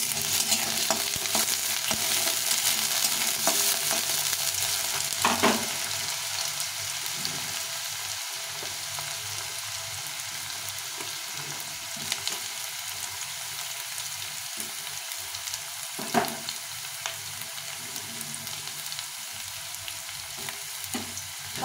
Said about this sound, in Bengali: প্রথমে আলুগুলোকে একটু ভেজে নেব।